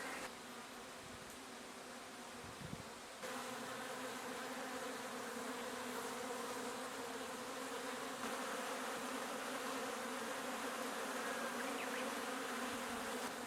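Steady drone of honeybees buzzing around very active hives in a bee yard on abandoned land in Ōmishima, Japan, a continuous close hum that holds level throughout with no talk.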